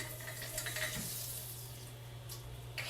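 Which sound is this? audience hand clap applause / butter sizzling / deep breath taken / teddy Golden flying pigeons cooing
butter sizzling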